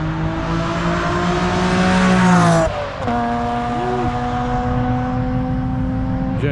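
An Ariel Atom 3 screams around a race track, heard from the passenger seat as a loud, continuous engine roar. The revs climb, drop sharply at a gear change, then hold steady at speed.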